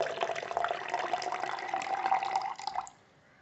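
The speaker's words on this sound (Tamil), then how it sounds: "இன்னும் கொஞ்சம் தண்ணி ஊற்றிருக்கேன்" Water pours steadily into a glass for about two and a half seconds, a bright gurgling stream that stops abruptly, leaving near silence.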